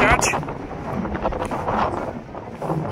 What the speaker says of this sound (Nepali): अब हावा एकदम बेसमा चढिरहेको छ,